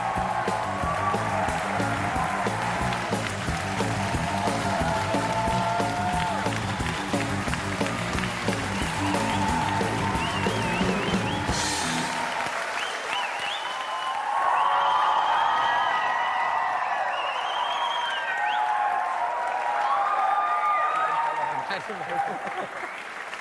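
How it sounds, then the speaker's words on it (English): A large audience gives loud, sustained applause with some cheering as Karan Johar and Shah Rukh Khan enter a televised stage show; music plays under the clapping at first, then the crowd roar carries on alone. "How long have you lived with this kind of applause, this level of applause?"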